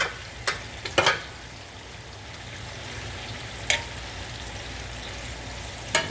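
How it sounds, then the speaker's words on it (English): Onions and shrimp sauté in a hot pan with a steady close sizzle, broken by a few sharp clicks and scrapes of a utensil stirring. "just kind of stir that around, because you want those onions, you know, sauteing down at the bottom"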